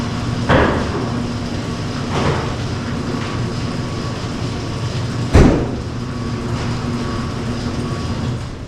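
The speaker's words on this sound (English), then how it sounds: "garage door is up" A garage door rises with a steady mechanical rumble and low hum, punctuated by a few sharp clunks near the start and midway, close and alone with no talking.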